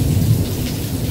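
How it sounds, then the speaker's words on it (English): Heavy rain pours down steadily, a dense hiss of drops with deep rolling thunder rumbling underneath, close and loud throughout with no voices. "this rain really rolled in fast"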